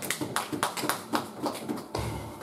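A church congregation claps along during a sermon, a run of quick, fairly close hand claps and taps in an uneven rhythm, with no voices.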